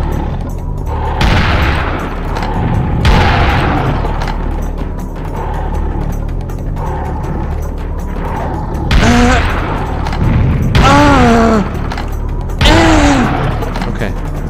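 Bombs burst in the first-person shooter Serious Sam, a string of loud, heavy booms and rattling blasts at irregular intervals, with someone talking over the gunfire.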